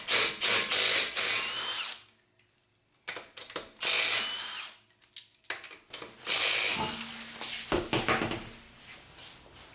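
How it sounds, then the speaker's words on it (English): An impact wrench whirs and rattles in three close bursts while loosening lug nuts on the wheel of a 2004 Honda Accord, with short pauses between the runs. "if you don't have an impact wrench like this, you need to break these lug nuts loose"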